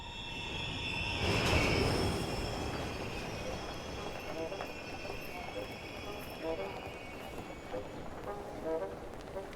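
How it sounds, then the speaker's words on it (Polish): A video game train rumbles past with a swell of noise early on, then fades into steady clattering wheels, moderately loud without speech. "Pociąg!"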